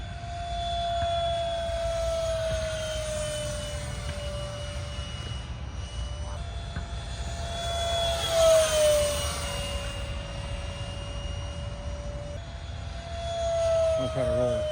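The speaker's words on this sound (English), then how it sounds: "Bring her in for a flyby." A Durafly DH 100 Vampire RC electric ducted-fan jet whines past in a flyby, its pitch sweeping and swelling as it nears and fading away, over steady outdoor background noise.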